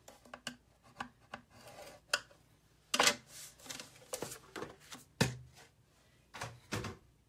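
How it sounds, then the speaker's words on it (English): Simply Scored scoring tool scoring cardstock at 5 1/2 inches for an A2 size card: a series of short, close scraping and rasping strokes with small knocks, quiet and without talk. "let's get our Simply Scored scoring tool, and we will score this at 5 1/2 inches."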